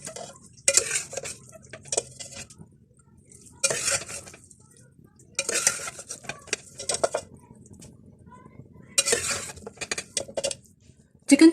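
Boiled spaghetti tossed through chicken chow mein in a pan, with bursts of loud metal utensil clanks and scraping against the pan separated by quiet pauses, close up.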